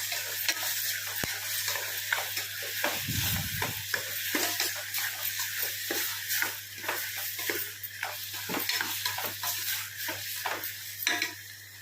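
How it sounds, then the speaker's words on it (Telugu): Tomatoes fry in a pan with a steady soft sizzle, interrupted by repeated scraping and stirring strokes against the pan, close and moderately quiet. "టమాటా వేసాను కదా, కొంచెం వేగాక చూద్దాం వేగింది."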